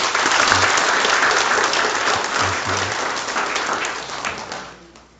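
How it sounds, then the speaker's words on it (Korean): Church congregation applauding together, a thick, steady wash of clapping that holds for several seconds before tapering off near the end. "박수 한번 할까요?"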